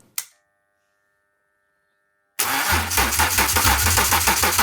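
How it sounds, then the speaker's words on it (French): After a short click and a long silence, a BMW E36 325i's M54B30 engine turns over with a rapid rhythmic cranking chug that continues steadily, loud and close, nearly starting. "on a une réaction du moteur là, il y a de l'allumage"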